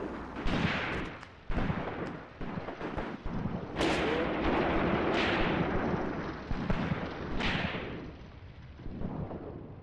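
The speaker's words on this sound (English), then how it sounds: "we're already being shot at by machine gun fire" Machine gun fire and heavy explosions in the tank-war game Graviteam Tactics: Mius Front: loud, booming blasts and bursts of fire repeat over a steady rumble, with no talking.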